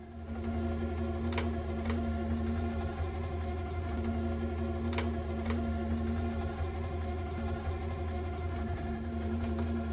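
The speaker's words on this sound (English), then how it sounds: "So we are using a very large DC motor to do this test." A very large DC motor driven by an Allen-Bradley 1397 DC drive rated 40 horsepower at 146 amps, giving a steady, loud electrical hum and whine with a few brief ticks, running continuously without talk.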